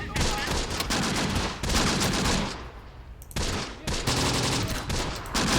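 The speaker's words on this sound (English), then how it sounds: "I'll start firing already" Gunfire in the WWII strategy game Close Combat: The Bloody First, loud dense volleys of rapid shots in several long bursts, broken by a short lull near the middle.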